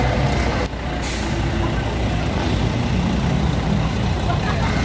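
Sharp air brake hiss from a bus at a crowded bus terminal in Barangay Sucat, Muntinlupa City, followed by steady diesel engine rumble and general traffic noise.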